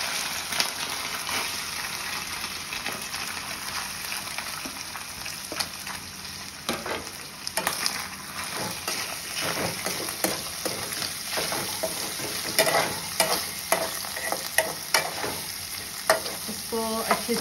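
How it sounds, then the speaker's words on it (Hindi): Chicken pieces frying in a pan for chicken pickle, a steady close sizzle with frequent scraping and clattering of a stirring spoon, louder toward the end, without speech. "अभी जब आप चिकन को फ्राई कर रहे हैं"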